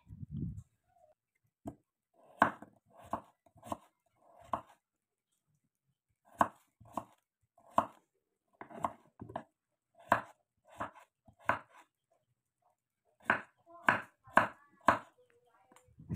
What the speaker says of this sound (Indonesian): ini kita akan potong memanjang sampai habis ya, atau sampai selesai